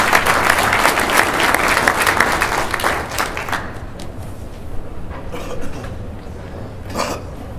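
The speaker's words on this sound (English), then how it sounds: "About a round of applause for the Ohio National Guard." Loud crowd applause for the Ohio National Guard at a veterans hall of fame enshrinement ceremony, strong for about three seconds then thinning to scattered claps and a few thumps.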